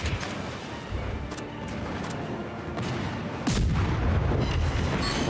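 Naval guns on a European destroyer fire in the World of Warships game, several deep booms and sharp cracks over a constant rumbling battle background, loud and layered.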